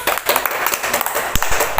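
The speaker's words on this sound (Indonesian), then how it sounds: "Berikan tepuk tangan dulu" Classroom applause in an elementary school lesson, a short burst of loud, uneven clapping from a group of pupils, with sharp individual claps standing out.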